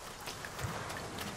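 Rain falling in the Dragon's Dogma 2 video game, a steady hissing patter of drops on surfaces with a soft low thump partway through, even and close, without speech.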